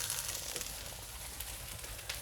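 Onions and garlic fry to a crisp in a pan, giving a steady, quiet sizzle with faint crackles and pops throughout, and no voices.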